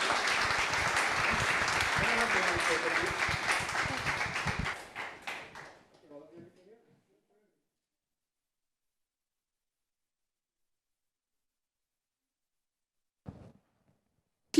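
An audience applauds panelists at a live-streamed women achievers event: dense clapping for about five seconds that thins out and dies away into silence, followed by a few faint isolated taps near the end.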